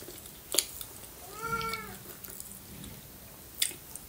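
Pet cat giving one short, soft meow at close range, with faint clicks and handling noise around it.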